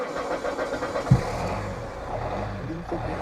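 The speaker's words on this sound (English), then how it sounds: "I'll go into the car and jump start it" A car's engine cranking on a flat battery through a JF EGWO 4000A jump pack and starting, a brief thump then a steady mid-pitched idle running continuously close by.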